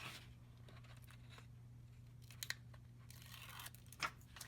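Adhesive backing is peeled off paper while making a shadowbox frame card, giving a quiet ripping tear and a couple of brief crinkly snaps over a low steady hum.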